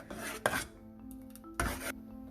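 A spoon scrapes and rubs through ground mixed pulses cooking in a pot, with two distinct rasping strokes against the pot, close and fairly quiet, with no talk.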